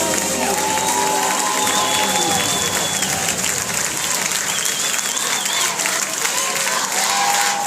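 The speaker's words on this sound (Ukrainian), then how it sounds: "Аплодисменты." Audience applause fills the hall at a choir competition final, a steady dense roar of clapping mixed with crowd cheers and a few faint shouts, loud and continuous throughout.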